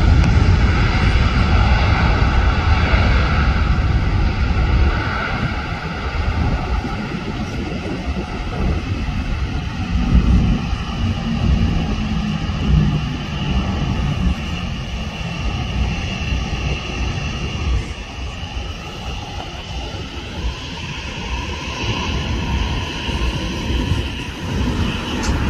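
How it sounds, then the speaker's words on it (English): A Boeing 747 airliner departs, its engines roaring loud and steady throughout the whole stretch, a broad continuous rumble with no voices over it. "The Queen of the Skies departing for Frankfurt."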